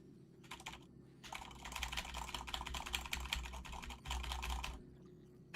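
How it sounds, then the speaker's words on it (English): Close-miked computer keyboard typing, loud hard keystrokes in fast dense bursts with short pauses between, no voices over it. "I'm slamming the keys and my mic is that close to the keyboard"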